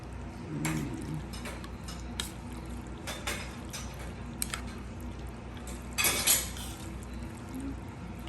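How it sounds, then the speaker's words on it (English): Curry noodle soup with bean sprouts and greens being stirred in a pot, soft liquid sloshing with scattered clinks of a utensil against the vessel and one brief louder clatter, quiet and close. "I'm gonna stir around to see what's inside"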